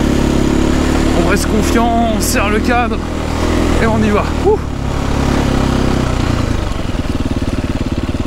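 Motorcycle engine running steadily on a countryside trail, a loud close drone that persists throughout while a rider talks over it.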